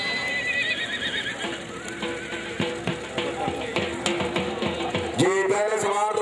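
Racehorses at a rural Pakistani horse-racing meet near Kharian, with rhythmic hoofbeats, repeated neighing and whinnying, and a busy outdoor crowd sound throughout, growing louder toward the end.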